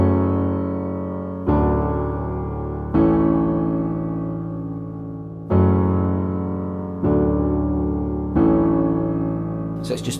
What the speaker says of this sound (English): And then you move into the second part of the chorus,